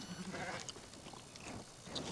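Faint bleating of sheep under a soft, noisy background, a few short calls in quick succession.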